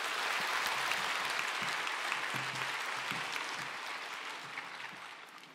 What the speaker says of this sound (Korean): 카나지 성도님 나오실 때 큰 박수로 환영해 주시기 바랍니다.